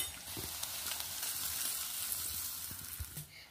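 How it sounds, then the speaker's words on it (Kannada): Hot tempering poured into garlic thambuli gives a steady close sizzle and crackle for a few seconds with no talking, fading slightly at the end. "ಒಗ್ಗರಣೆ ಕಾದಿದೆ, ಇದನ್ನೀಗ ತಂಬುಳಿಗೆ ಹಾಕೊಂಡ್ಬಿಡುವ."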